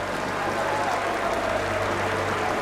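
Large stadium crowd at an Inter Miami match as Lionel Messi leaves the field after 36 minutes, a steady dense roar of murmuring and scattered applause filling the space without pause.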